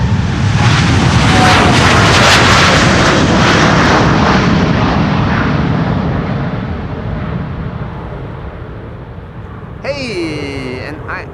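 Airbus A340 jet at Amsterdam Schiphol's Polderbaan runway, a loud, broad engine roar that slowly fades as the aircraft moves away, with a brief voice near the end.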